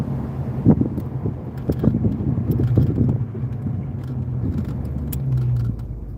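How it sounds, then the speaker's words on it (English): A Ford Capri with a 302 V8 revs and pulls away in traffic, heard from inside the car as a deep, rumbling engine note with several quick blips of throttle, then a steadier drone, all moderately loud over light wind and road noise. "Just rev it up a little bit."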